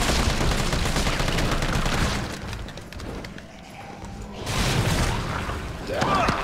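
Loud gunfire in the Resident Evil 3 Remake, with a dense stretch of shots and impacts that fades, then swells back with booming hits, under a voice.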